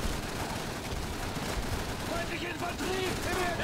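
Rapid bursts from a Thompson submachine gun with a drum magazine in Call of Duty 3, dense and loud automatic fire running continuously over battle noise.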